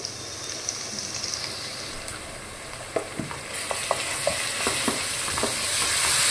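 Country chicken pieces frying with masala in a pan, a steady sizzle with scattered stirring scrapes and clicks of a utensil, moderately close with no talk.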